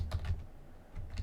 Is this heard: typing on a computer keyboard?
yes